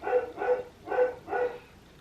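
Dogs barking four times in an even rhythm at a house, mid-distance and moderately loud, with no speech.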